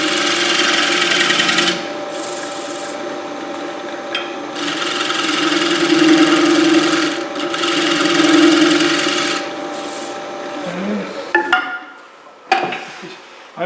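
A wood lathe takes the final oiled cut on a turned bowl, a steady loud whirring scrape with a humming tone that runs almost throughout, pausing briefly, then fading out with a few knocks near the end.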